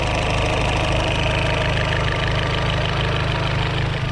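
A Vauxhall Zafira VXR with a newly fitted EDS copy exhaust manifold idles loudly and close up, its engine thrumming in a steady, even pulse throughout.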